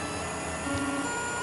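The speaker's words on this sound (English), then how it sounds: "So here's my 3D printer starting to build one of my leader reels" A Let's Bot Mini desktop 3D printer begins building a leader reel, giving off a steady mechanical whir and hum with a brief stepper-motor tone partway through, close and continuous with no talking.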